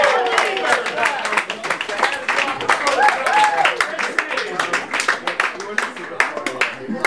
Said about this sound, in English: a big round of applause for Chris C., our scorekeeper.